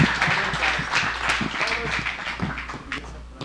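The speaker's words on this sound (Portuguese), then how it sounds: "salva de palmas também para a nossa querida Bitula" Studio audience applause at the debut of a Brazilian television variety show, a dense wash of clapping lasting several seconds with voices mixed in underneath.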